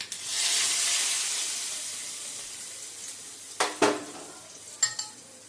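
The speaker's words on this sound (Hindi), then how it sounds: "सब अच्छे से चटक गया है। इसको मैं तड़का लगा लूँगी।" Spices and red chilli crackle and sizzle in hot oil for a tempering, a bright hiss that fades gradually, then a few metallic clinks of a spoon against a pan.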